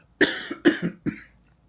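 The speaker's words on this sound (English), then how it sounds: "Another cough." Three short, sharp coughs in quick succession, close and fairly loud, with no talking.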